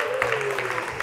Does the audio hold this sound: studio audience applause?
yes